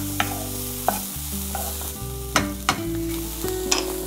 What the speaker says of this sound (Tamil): கீரையை இந்த மாதிரி தண்டோட கீரையை வந்து நல்லா வாஷ் பண்ணி எடுத்து வதக்கிட வேண்டியதுதான்